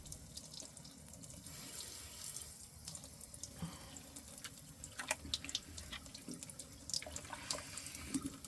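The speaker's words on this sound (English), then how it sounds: "I'm just going to run some cold water down my sink at the same time" Cold tap water runs steadily into a sink with a soft continuous hiss, with occasional splashes and drips, quiet and close.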